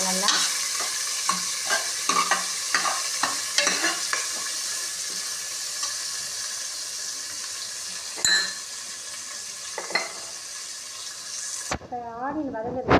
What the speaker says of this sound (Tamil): சின்ன வெங்காயம் 2 அரிஞ்சு போட்டிருக்கேன். சின்ன சைஸ் வெங்காயம். கொஞ்சம் அடுப்பில் சிம்மில் வச்சுட்டு அரிக்குங்க நல்லா.